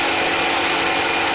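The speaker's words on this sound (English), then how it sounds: "I'm starting to experiment with higher speed milling operations." A Tormach PCNC 1100 CNC mill runs a high-speed milling pass at 5,140 RPM with a 40-inch-per-minute feed, a loud steady broadband hiss of cutting and spindle noise holding constant throughout, close and without talk.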